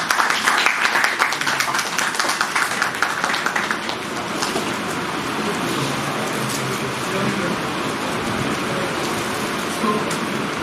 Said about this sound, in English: Let us give a resounding applause to our guide on this journey